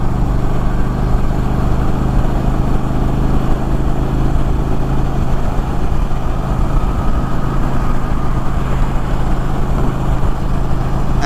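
A 2024 Indian Challenger Dark Horse motorcycle cruises at highway speed around 2700 RPM, its engine a loud, steady low drone blended with constant wind rush that holds unchanged from start to finish.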